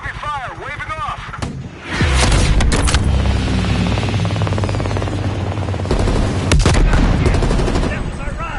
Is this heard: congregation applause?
no